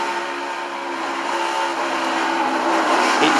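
A NASCAR Ford race car heard from its onboard camera, the engine a loud, steady, close roar with a high whine that shifts only slightly as the driver starts to lift.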